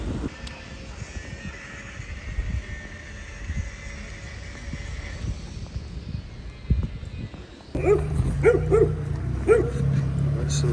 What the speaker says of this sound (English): Some stray dogs